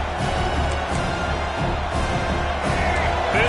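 Stadium crowd noise from a college football video game with Penn State forms a dense, loud, continuous roar, with talk faintly mixed in.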